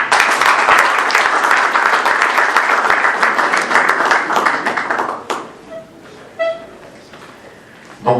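An audience at a conference debate event applauds as speakers are invited on stage, a dense loud wash of clapping for about five seconds that then drops away to quieter room sound with a few scattered claps.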